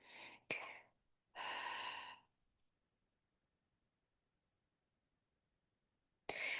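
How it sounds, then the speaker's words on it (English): A deep, close breath drawn in slowly during a calm relaxation exercise, preceded by a short gasp and followed by near silence, with another inhalation starting at the very end. "take a deep breath in"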